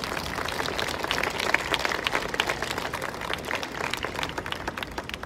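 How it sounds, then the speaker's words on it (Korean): At an outdoor memorial cultural event for the Aricell disaster victims, the audience claps steadily after the performance, a soft and even patter of many hands. "공연해주신 봄날 종합예술관 본단에게 큰 박수 부탁드리겠습니다."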